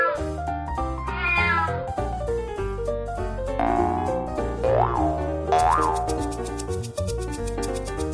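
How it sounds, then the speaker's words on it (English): Cartoon cat meows over a bouncy children's song with dancing surprise eggs, short meow calls rising above the steady music, with a springy boing effect. "Cat!"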